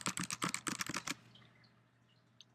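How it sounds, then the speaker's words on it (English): Rapid keyboard typing for about a second, a quick run of crisp key clicks, then the tapping stops and only a faint room hum remains. "I'm just typing some gibberish, making sure that I hit the space bar every now and then."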